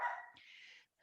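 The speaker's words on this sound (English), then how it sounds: "I apologize for my dogs, as you can hear them in the background." A dog gives one short bark, then a brief higher yip, faint and off in the background of a quiet indoor room.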